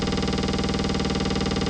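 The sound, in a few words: Elektron Rytm drum machine retriggered hits, velocity ramping down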